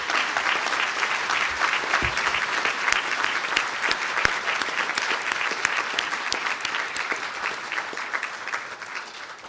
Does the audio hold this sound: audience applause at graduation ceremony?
yes